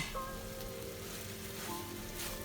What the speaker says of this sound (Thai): เราจะผัดให้ทุกอย่างแห้งนะคะในกระทะก่อนที่เราจะใส่ถั่วลิสงกับพริกทอดค่ะ